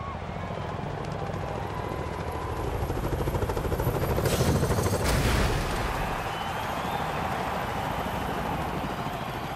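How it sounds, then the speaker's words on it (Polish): An aircraft engine in LEGO Forza Horizon 4 drones with a fast, chopping pulse, swelling louder near the middle and then settling to a steady roar as the plane brings in a house. "samolot nam przywiózł jakiś dom"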